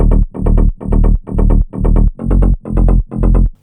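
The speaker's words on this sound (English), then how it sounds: "I layered this bass line in 3 different layers" A rolling tech house bass line built from three layers (mid bass, sub bass and wide bass) pulses in eight loud, even phrases with a steady pumping rhythm, with a faint high tone above and no voices.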